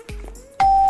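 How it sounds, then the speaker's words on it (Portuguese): A Minecraft doorbell rings with two clear electronic ding-dong tones, the second louder and sustained, in a quiet game setting. "Eu vou tacar aqui a campainha."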